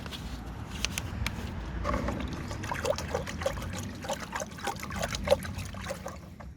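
Reddish-brown photosynthetic bacteria liquid is poured from a half-emptied bottle into a soil mix. It makes a steady, close trickle and splash that runs the whole time, with no voices.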